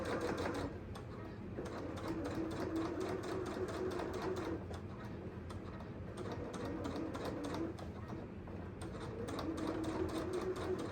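A sewing machine running steadily as it top-stitches an eighth-inch seam around a book tote bag, with a fast mechanical rattle that briefly pauses and restarts, close and moderate.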